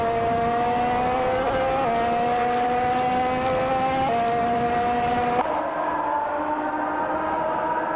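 Force India VJM07 Formula One car in a racing video game, its engine a steady, high-pitched whine that climbs and then drops with each gear shift, heard continuously with no talking.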